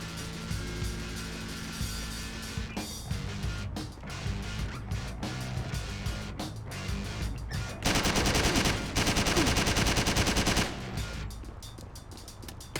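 Automatic machine gun fire in the game Driv3r, rattling in dense bursts with a louder sustained stretch of rapid shots near the end, over a constant game soundscape.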